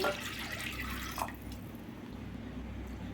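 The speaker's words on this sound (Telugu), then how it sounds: "ఒక గ్లాసున్నర వరకు అయితే వాటర్ పోసుకుందామండి" Water pours steadily into a cooking pot with a rushing, splashing sound that eases off after about a second, leaving a quieter trickle.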